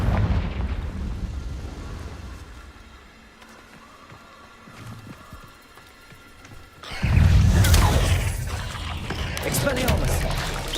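A Confringo blasting spell explodes in the video game Hogwarts Legacy, a loud rumbling burst that erupts about two-thirds through and keeps roaring after quieter gameplay sounds, with a voice talking in the background.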